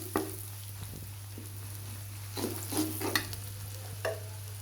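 Turmeric, chili and cumin powders stirred in oil in a frying pan, soft sizzling under a constant low hum, with several distinct scraping stir strokes of a spoon against the pan.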